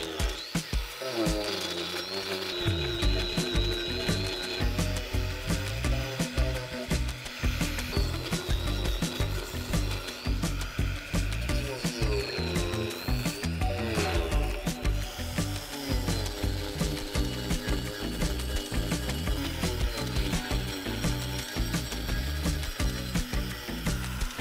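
A 4.5-inch angle grinder fitted with a coarse, big-toothed carving wheel cuts into wood for wall art, giving a continuous rough, chattering grind with a steady loud whine throughout, no talking.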